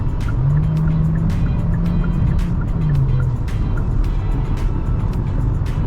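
Kia Sportage hybrid SX Prestige accelerating hard at full throttle on a night drive, a loud engine and road roar with a rising whine heard from inside the cabin, alone without talk.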